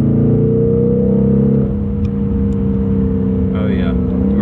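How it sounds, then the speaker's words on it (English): A BMW M850i in sport mode holds a steady engine drone, easing slightly in pitch partway through, heard loud from inside the cabin. "You can hear the throttle pick up on the car"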